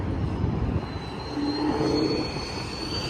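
A turbocharged Ford Mustang 5.0 lets out a steady, thin turbo whistle that rides above a loud, continuous engine and road rumble.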